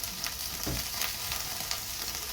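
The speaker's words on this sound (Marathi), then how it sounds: "ह्यामध्ये आपण आता वांग टाकायचं" Brinjal pieces fry and sizzle in a pan for a vegetable dish, a steady hissing crackle with faint stirring clicks, close and moderately quiet, with no voices.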